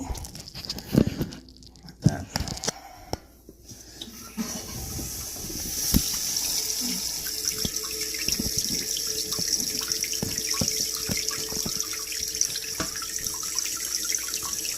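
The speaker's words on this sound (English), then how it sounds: "See how that water's spraying out the bottom down there?" New fill valve spraying water into a toilet tank, starting with a few clanks and knocks, then a steady hissing rush of filling water that continues throughout, with someone speaking over it.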